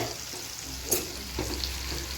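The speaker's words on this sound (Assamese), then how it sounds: "কণী ভাজোঁ হালধি দিওঁ" An egg fries in a pan with a soft, continuous sizzle, and a stirring scrape or tap cuts in briefly near the middle.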